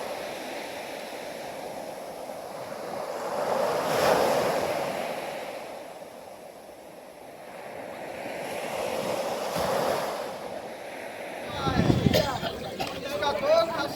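Ocean waves roll onto a beach near Konark, India, with two broad surges swelling and fading in a slow rhythm against steady wind, followed by a nearer splash and rustle toward the end.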